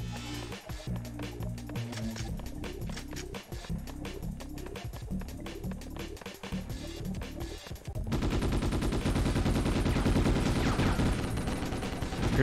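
Rapid gunfire and explosive bursts from the video game Ghost in the Shell: Stand Alone Complex crackle in steady repeated volleys, then a louder, denser wash of blasts takes over toward the end.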